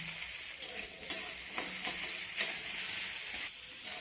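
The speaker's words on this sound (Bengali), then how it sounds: "এদিকে রান্না করার জন্য গ্যাস অন করে কড়াইতে সর্ষের তেল দিয়ে তার মধ্যে আলু দিয়ে দিয়েছি।" Potato pieces fry in mustard oil in a wok over a gas flame, giving a steady, close sizzle with a few sharper stirring scrapes and knocks scattered throughout.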